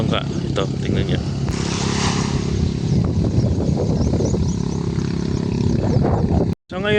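A boat motor drones steadily nearby, with wind and water noise around it, briefly cutting out near the end.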